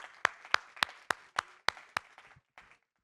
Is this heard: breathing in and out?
no